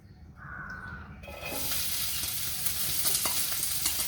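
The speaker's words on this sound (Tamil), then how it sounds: "இப்போ வந்து ஃபர்ஸ்ட் வந்து இதில் வந்து கேபேஜ் ஆட் பண்ணுறோம்." Cabbage dropped into hot coconut oil starts a sudden, loud, steady frying hiss that follows a quieter opening, while a crow caws faintly in the background.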